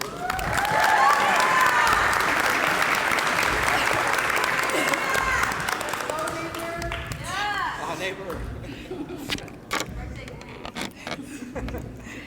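Loud audience applause with cheering and whoops in a school gym as a new Lady Roadrunner athlete is introduced to the podium, strong at first and then fading into scattered claps and crowd chatter.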